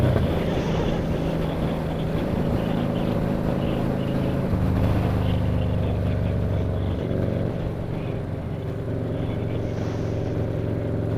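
A motorcycle engine revs from an exaggerated throttle pull in traffic, a loud, sustained droning roar that swells midway, with wind buffeting the microphone throughout.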